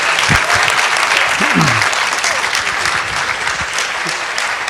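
Audience applause at a talk by Daw Aung San Suu Kyi at Asia Society, a steady broad wash of clapping with brief voices murmuring underneath.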